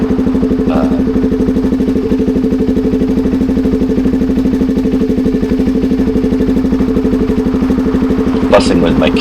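Motorcycle idling at the roadside on Sardinia's coast after pulling over, a loud, steady, close engine pulse that runs evenly throughout, with a brief clatter near the end.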